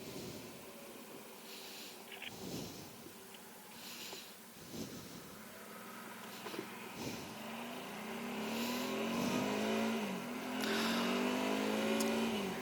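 A Suzuki V-Strom motorcycle engine drones noisily while riding, revving up and down through gear changes, with wind noise and the engine growing louder toward the end.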